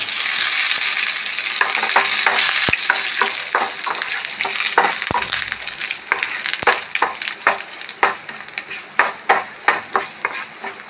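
Dried red chillies and curry leaves splutter in hot oil for a raw mango chutney, a loud close sizzle with sharp pops and crackles that thin into sparser bursts.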